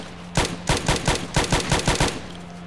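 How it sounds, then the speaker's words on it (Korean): A rapid burst of gunfire in Project Zomboid, about a dozen sharp shots in quick rhythm, loud and close over a low hum. "일단 여기서 총소리 내야 되잖아."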